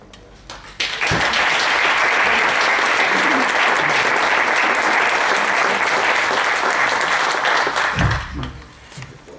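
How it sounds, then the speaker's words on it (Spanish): Audience applause at a Spanish book presentation, starting suddenly after a few sounds, then a long, loud, steady burst of clapping from many people before it fades and stops. "creía que iba a haber menos aplausos"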